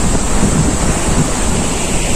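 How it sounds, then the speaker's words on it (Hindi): The Chuli river rushes hard beside a dangerous stunt spot at Tonk while strong wind buffets the microphone, making a steady, loud, dense roar with no pauses and no voices. "हवा भी इतनी तेज चल रही है और पानी का शोर भी आ रहा होगा आपको इतनी तेज यार।"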